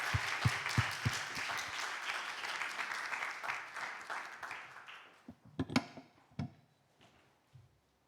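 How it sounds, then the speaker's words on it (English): An audience applauds to welcome the European Commissioner for Equality at a conference, a dense wash of clapping that thins out over several seconds, leaving scattered individual claps near the end. "Let's welcome her with the round of the applause."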